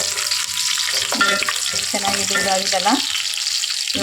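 Whole spices sizzle and crackle in hot oil as a tempering for Muslim-style bagara khana rice, a steady close frying hiss with stirring, while someone talks over it.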